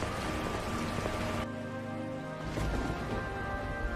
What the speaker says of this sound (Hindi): और बहुत तेज बारिश शुरू हो जाती है।